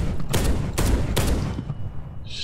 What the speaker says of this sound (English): It's a weapon, you shoot it, you fire, explodes like half a second afterwards